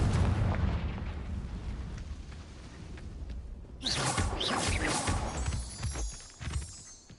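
Magical blasting spell explosion in the Hogwarts Legacy video game, a sustained booming rumble that swells into a sharp, bright burst of crackling debris midway, loud and without talk.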